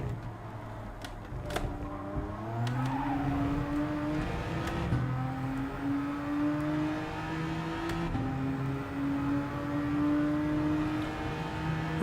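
Racing car engine in Gran Turismo 7 drones steadily, rising and falling in pitch through gear changes and revs, moderately quiet and alone without talk.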